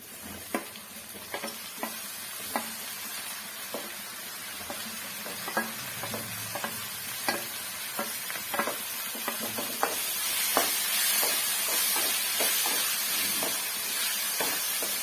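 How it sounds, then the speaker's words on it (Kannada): Onion and tomato frying in a pan for poha upma, a steady sizzle broken by many sharp spatula scrapes and taps in an irregular rhythm, growing slightly louder partway through. "ಈರುಳ್ಳಿ ಫ್ರೈ ಆಗ್ತಿದೆ ಇವಾಗ ಟೊಮೊಟೊ ಹಾಕೋತಾ ಇದ್ದೀನಿ"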